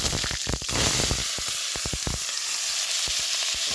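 Taro stolons sautéing in a pan with cumin and panch phoron: a steady, loud hiss of frying with scattered stirring knocks and scrapes, close by and with no talk.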